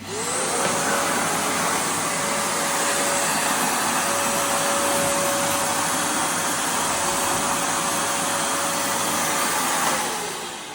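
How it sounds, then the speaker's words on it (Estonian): A bargain-priced household vacuum cleaner runs loudly and steadily for about ten seconds with a constant motor whine, switching on at the start and winding down at the end, with no talk over it. "Märten proovis meie tolmuimejat, mille ma ostsin soodukaga. Ja kõva müra teeb, aga põhjusega"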